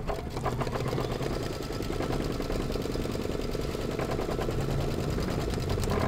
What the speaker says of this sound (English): I'm putting my foot down, and I am sewing around the hat.